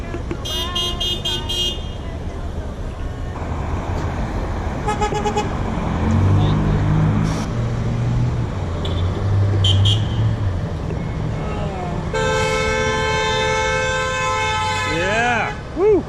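Passing cars and a bus on a street honk their horns in response to a roadside sign, with several short toots and longer blasts spread across the stretch over traffic rumble, and people talking and cheering nearby.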